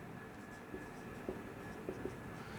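Chalk writes on a board during a maths lesson, giving a few faint, scattered strokes and taps over a steady background hum, without speech.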